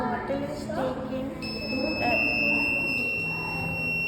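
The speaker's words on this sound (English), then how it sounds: "when the bottle is taken away, The alarm starts" A homemade bottle theft alarm gives off a steady high electronic tone that starts partway through and holds on, under and between people talking nearby.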